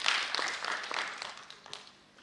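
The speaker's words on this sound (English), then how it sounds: "Let's clap for the organizers." Audience at a children's recovery and resilience dialogue event applauding, a dense burst of clapping that starts full and gradually thins out and fades over a couple of seconds.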